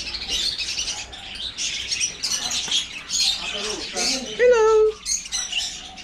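Several birds chirping and squawking in quick bursts close by, with a few sharper whistling calls near the end.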